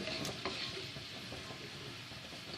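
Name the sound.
sautéing chicken in a pan on high flame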